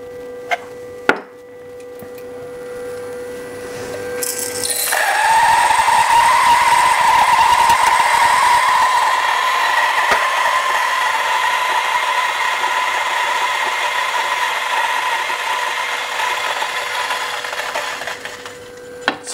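A DF64V coffee grinder grinds light roast beans: after a few quiet seconds the motor starts up into a steady, close whirring drone with a gritty crunch, running evenly for over ten seconds before cutting off near the end.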